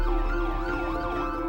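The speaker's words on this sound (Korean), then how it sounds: "불청객처럼 울려대던 구급차 소리" An ambulance siren wails continuously in a rising and falling pattern, loud and close, with no speech over it.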